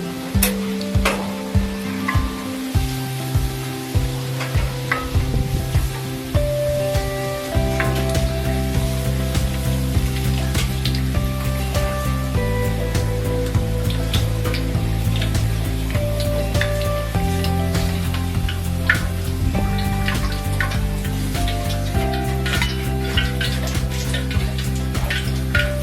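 Leeks (bawang bakung) stir-fried in a pan give a steady, close frying sizzle that runs under loud background music for the whole stretch.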